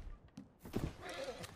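A horse whinnies briefly in Red Dead Redemption 2, a short, moderately loud neigh with hints of hooves shifting, over faint game ambience.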